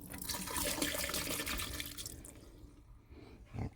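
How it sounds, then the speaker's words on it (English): Antifreeze poured from a jug into an RV kitchen sink drain while winterizing a Coachmen Beyond, a steady liquid splash and gurgle that fades near the end. "we'll pour the rest of this in the kitchen sink"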